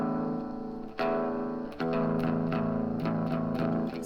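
Distorted electric guitar is played through a Joyo EQ pedal with the 100 Hz slider adjusted, giving loud sustained chords with a few sharp restrikes and brief gaps, the tone heavy in the low mids.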